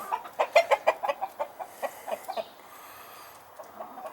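Backyard chickens cluck close by in a quick, rhythmic run of short calls that tapers off after a couple of seconds into faint, scattered clucks against quiet farmyard ambience.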